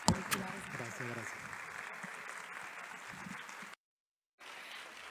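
An audience claps after a technology and methodology talk in Guadalajara, a steady wash of many hands with a few louder claps at the start, a voice briefly audible, then a short dead gap before the clapping resumes.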